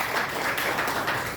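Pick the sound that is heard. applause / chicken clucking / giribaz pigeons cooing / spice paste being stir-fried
applause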